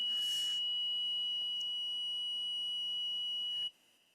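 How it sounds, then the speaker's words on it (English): A steady high electronic alarm tone sounds continuously for a monthly first-Thursday test, fairly faint, then cuts out near the end with no talk. "we have the alarm sounding off, not because of what you're saying, but simply because it's the first Thursday of the month."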